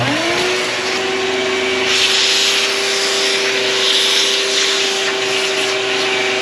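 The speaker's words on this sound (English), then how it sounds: "I just realized that I didn't vacuum here." A vacuum cleaner runs with a loud, steady motor whine, a constant high-pitched tone and broadband rushing noise, continuously and close by, cleaning inside a Toyota Highlander door.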